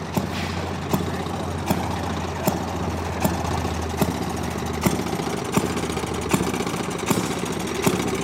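An antique lawnmower engine runs at an engine show, a steady chugging drone marked by a sharp regular firing pop about every 0.8 seconds.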